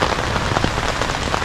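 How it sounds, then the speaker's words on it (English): Heavy rain drumming on a tent during a backcountry camping trip on Isle Royale, a dense continuous patter close by with no voices. "It's raining. It's raining a lot."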